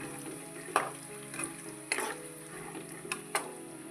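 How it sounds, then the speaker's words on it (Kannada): Peanuts frying in hot oil over a high flame, a soft steady sizzle punctuated by a few sharp clinks of a spoon against the pan, close and fairly quiet. "ಈಗ ನೋಡಿರಿ, ಶೇಂಗಾ ಕಾಳು ಹುರ್ಕೊಂಡವು."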